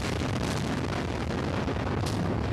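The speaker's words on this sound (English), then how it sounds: "Overnight, the explosions continued." Explosions during an overnight air attack on Baghdad, heard as a dense, loud, continuous rumbling roar with a sharper burst near the end, no voices.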